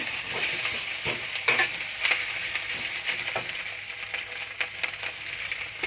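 Chiang Da greens and chicken egg stir-fried in a pan, a steady close sizzle broken by irregular scraping strokes of the spatula, with no talking.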